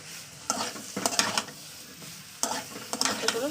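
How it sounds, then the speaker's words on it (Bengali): Potatoes fry in a pan with a soft sizzle under repeated scraping stirs of a spatula, coming in short bursts with quieter gaps between, close and moderately loud. "আলুটাকে দিয়ে ভালো করে আমি কষিয়ে নেবো"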